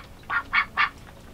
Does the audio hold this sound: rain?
no